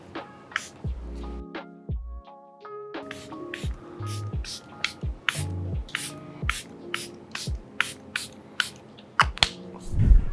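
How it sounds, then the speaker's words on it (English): Charlotte Tilbury Airbrush Flawless makeup setting spray misted onto a face, a string of short, sharp hissing spritzes in quick succession, close and crisp, with faint handling sounds between bursts. "The setting spray I'm using is Charlotte Tilbury Airbrush Flawless Makeup Setting Spray."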